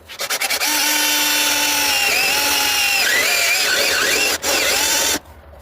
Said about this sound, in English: Let's drill some out.